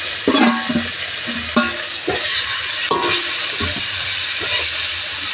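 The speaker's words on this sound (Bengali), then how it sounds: "নুন দিয়ে দিলাম, হলুদটা দিয়ে দিলাম। ভেজে রেখেছিলাম আলুটা দিয়ে দিলাম।" Fried potato pieces stirred into a pan of spices with salt and turmeric, sizzling steadily with hissing steam and repeated scraping stir clatters from a spoon close by.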